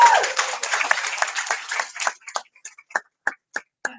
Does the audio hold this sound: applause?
yes